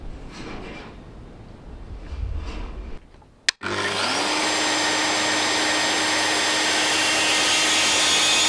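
Mafell portable bandsaw cutting into an oak beam, starting after a sharp click near the midpoint and running as a loud, steady blade-and-motor whine through to the end, preceded by quieter room noise.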